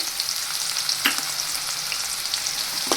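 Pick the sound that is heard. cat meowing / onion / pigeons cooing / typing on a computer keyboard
onion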